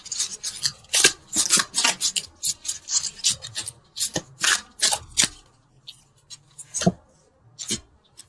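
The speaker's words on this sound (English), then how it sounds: "let's pull a couple universal love cards" Tarot cards being shuffled and pulled from a deck, a close series of quick rasping riffles and papery slides in bursts, then a few softer single card pulls, with no talking.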